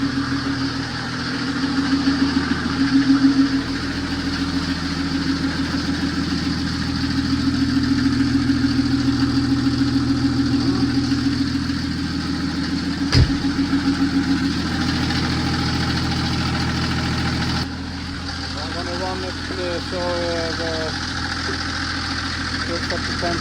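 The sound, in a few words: Volvo TGB 11 C303 truck OM603 engine idling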